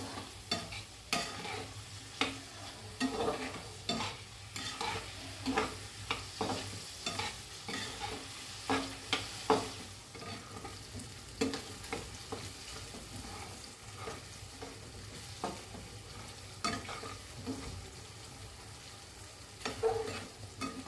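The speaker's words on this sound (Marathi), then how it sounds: "आता त्याच्यामध्ये मी हे टोमॅटो टाकते." Chopped tomatoes fry with browned onion in a pan, a steady sizzle under frequent rhythmic stirring scrapes that come in close, regular bursts.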